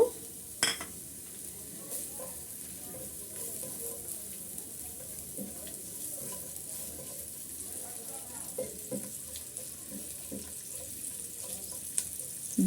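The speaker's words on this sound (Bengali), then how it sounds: "এই পেঁয়াজগুলো ভেজে নিচ্ছি" Chopped onions fry softly in oil in a pan, a low steady sizzle with occasional scraping stirs and clinks, faint and close.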